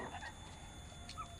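Elba hens and a rooster, four-month-old free-range laying chickens, cluck softly in a small backyard pen, with short quiet calls rising over a faint steady background.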